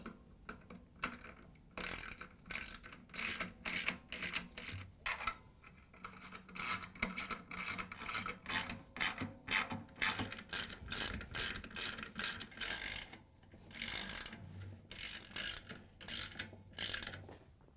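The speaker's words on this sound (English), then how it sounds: "we can grab the spider bolts and the 10mm socket with the ratchet to tighten them down" Ratchet with a 10mm socket tightening spider arm bolts on a Samsung washer, rapid bursts of clicking strokes in a steady back-and-forth rhythm, close and clear with short pauses between runs.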